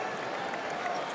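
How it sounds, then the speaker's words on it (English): A basketball arena crowd at the Lenovo Center cheers and applauds in a steady, distant roar with no talk over it. "Pretty good crowd tonight here at the Lenovo Center"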